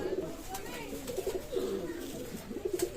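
Kashuri running-pair pigeons coo in repeated soft, throaty bursts, close by, with low murmuring voices and faint background noise between the calls.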